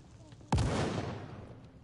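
A grenade blast in the video game HellDivers, a single loud, sudden boom that rolls into a long rumbling decay, close and heavy, with no voices over it.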